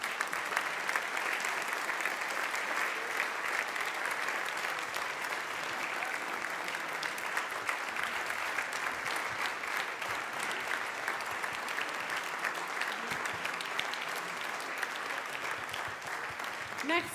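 Dense, steady applause from a large audience fills the room for the winning candidates at a culinary trophy award ceremony, continuous and even throughout with no letup, a faint voice occasionally audible underneath.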